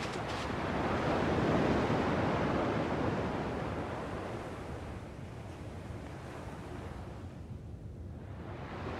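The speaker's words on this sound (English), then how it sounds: "At least the waves sound the same." Ocean waves in Kingdom Hearts 2 wash in steadily as broad, rushing surf with a wind-like hiss, swelling loudest early on and then easing to a softer, continuous lapping wash.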